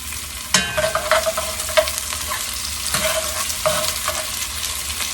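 Italian lentil soup ingredients frying and being stirred in a pan over medium heat: a steady sizzle with scattered scraping stir strokes and soft clicks, close and fairly loud, with no talking.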